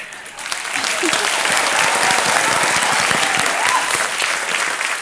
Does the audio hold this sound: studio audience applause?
yes